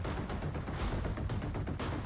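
Gunfire during an Israeli army operation in Jenin in the West Bank: dense, continuous rapid bursts of shots, loud and harsh, sound like a sustained fusillade with no pauses.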